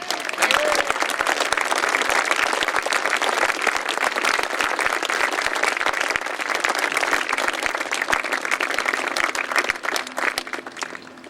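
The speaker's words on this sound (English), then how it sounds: "Can we give Robin now a really, really tumultuous applause?" An audience at a memorial dedication on Hayling Island breaks into sustained, dense applause, steady and loud throughout before thinning slightly at the end.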